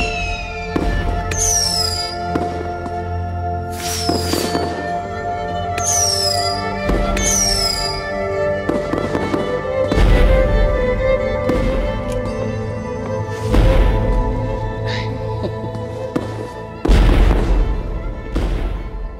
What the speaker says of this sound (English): Ashes to Flash's memorial fireworks